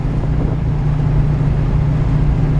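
A 1949 Ford F1 pickup's V8 engine idles with a low, steady rumble up close, deep and even with no pauses.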